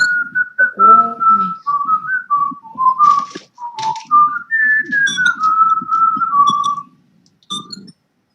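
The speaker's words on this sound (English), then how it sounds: "My microphone's picking up your whistle." Someone whistles a wandering melody near the microphone in short phrases, sliding between notes, with faint background sounds and a brief pause near the end.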